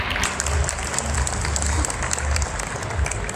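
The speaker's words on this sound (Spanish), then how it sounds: "Un aplauso." An audience at a Star Wars toy convention talk bursts into loud, sustained applause, with dense clapping that carries on steadily throughout and faint voices mixed in.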